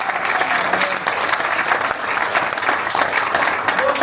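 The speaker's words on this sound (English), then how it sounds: "So give a round of applause to Brian" A crowd applauds steadily for about four seconds at an award celebration, dense even clapping that holds a constant level from start to finish, close and fairly loud.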